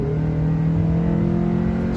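A car accelerating with the gas pedal floored from a roll of about 45 mph, a steady engine drone with sustained harmonic tones holding fairly constant, heard from inside without talk.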